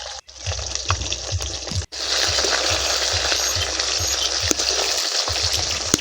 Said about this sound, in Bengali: মাছ আমি এক পিঠ উল্টে দিয়েছি, এবার ভালো করে দ্বিতীয় পিঠটা ভেজে নেব।